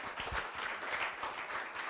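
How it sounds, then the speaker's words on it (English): Faint, continuous applause from a conference workshop audience, many hands clapping together in a steady patter at a distance. "Let's clap our hands to our MC."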